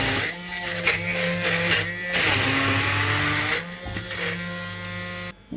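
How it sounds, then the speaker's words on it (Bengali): An electric blender whirs steadily, blending beetroot and watermelon into juice. The loud motor drone holds for several seconds, shifts pitch slightly as the load changes, then cuts off near the end. "তো আমি এটা এবার ব্লেন্ড করে নিব, বিটরুট আর তরমুজ এটা ব্লেন্ড করে শরবত রস বের করে"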